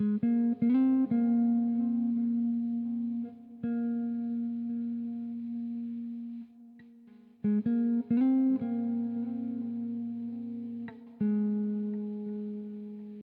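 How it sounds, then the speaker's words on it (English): Clean electric guitar plays a simple melodic line of sustained notes with chorus and echo, repeating the phrase twice, alone and fairly quiet. "have a second guitar that comes in for the second half of the intro"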